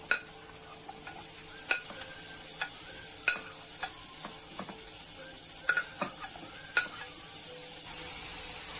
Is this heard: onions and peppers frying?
yes